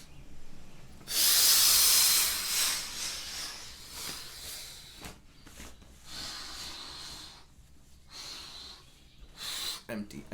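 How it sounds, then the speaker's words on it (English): A long, forceful breath pushed out through the mouth, then softer breathing cycles follow, close and loud in a guided breathwork session. "take a deep, full breath out, completely empty your lungs"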